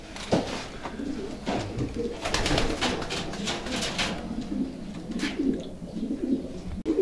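Pigeons in a racing pigeon loft coo softly and repeatedly at close range, with rustling, wing flutters and a low voice murmuring in the background.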